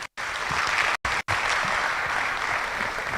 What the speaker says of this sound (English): To give us a hearty clap for our provost.